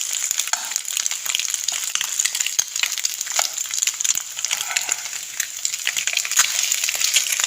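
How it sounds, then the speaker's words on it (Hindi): Eggs fry in a pan for an egg paratha. The sizzle is bright, continuous and crackling, close up, with occasional stirring scrapes and no talking. "अंडे बहुत अच्छे तरीके से फ्राई हो चुके हैं।"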